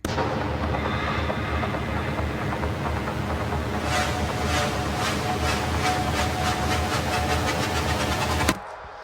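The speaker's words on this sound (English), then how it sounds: "I did add this sample that I've recorded in actually a train in Japan when I was visiting." Field recording made aboard a train in Japan: a steady, loud rumble of the carriage running on the rails, with a rapid series of rhythmic clicks building toward the end before the sound drops away abruptly.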